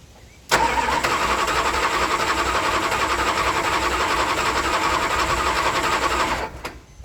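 A hard-starting car engine cranking with the throttle about half open: one steady, fast whirring crank lasting about six seconds that starts and stops abruptly, loud and close, with no voices.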